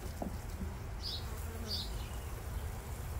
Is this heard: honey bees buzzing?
yes